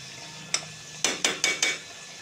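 A spoon stirs fish curry in a metal pan with salt just added, making five quick scraping clinks against the pan, the last four close together in a steady rhythm.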